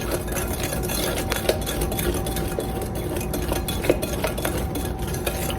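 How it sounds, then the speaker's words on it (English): Egg custard pie filling ingredients being mixed in a bowl, a steady whirring with scattered clinks and scrapes of a utensil against the dish, continuous and close, with no talking. "So mix that together"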